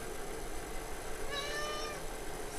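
A cat gives a single drawn-out meow partway through, close and clear above a steady background hiss, with no talking.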